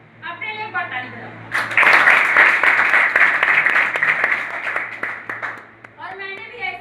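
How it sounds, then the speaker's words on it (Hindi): A live audience at an event in Bodla, Chhattisgarh bursts into loud, dense clapping that swells after a spoken line and holds steady for about four seconds before fading, with a voice talking before and after. "अपने लिए एक बार ताली बजाओ।"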